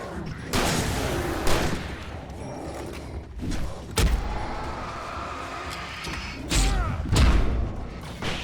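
Alan Wake Remastered combat: a flashbang grenade going off amid loud thuds and gunfire-like bursts, with several sharp impacts spaced a few seconds apart against a steady rumbling background.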